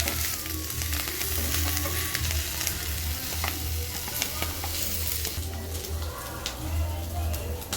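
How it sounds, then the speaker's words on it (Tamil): Ponnanganni greens sautéing in a pan for thogayal, a steady broadband sizzle with scattered stirring clicks, close and fairly loud, with faint voice-like murmurs underneath. "இப்போ நல்லா சுருளை வதக்கியாச்சு"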